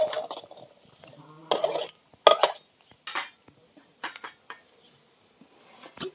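Okra is heated in a dry kadai and stirred with a metal spatula, giving sharp, intermittent clanks and scrapes against the pan with quiet gaps between, close and clear.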